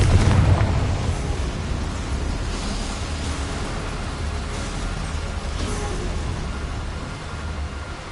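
A Confringo spell in the game Hogwarts Legacy blasts boulders apart, opening with a loud booming burst that decays into a long, rumbling roar of crumbling rock and debris, heard alone without talk.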